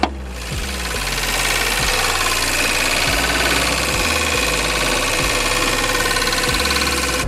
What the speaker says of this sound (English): You guys can hear the fan is just constantly going off.